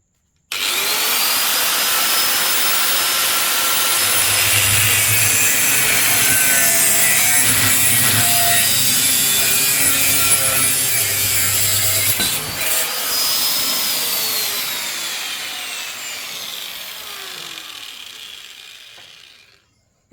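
A metal frame beam is sawn for a 50cc speedway sidecar build, giving a loud, continuous mechanical cutting roar with a steady low hum for nearly twenty seconds before winding down at the end.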